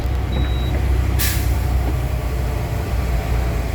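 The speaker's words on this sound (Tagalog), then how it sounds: "Ayan, traffic." Road traffic on the Skyway Stage 3 ramp in Metro Manila gives a steady low rumble of heavy vehicles, with a brief hissing burst like an air brake partway through.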